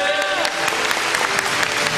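Warm applause from a church congregation at an Amis hymn launch and thanksgiving service, thanking three pastors; dense, steady clapping from many hands fills the hall throughout, with some voices faintly mixed in.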